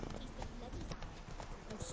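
Hoofbeats of Geralt's horse Roach galloping in The Witcher video game, a steady clip-clop rhythm under game music and ambience, with a voice speaking over it.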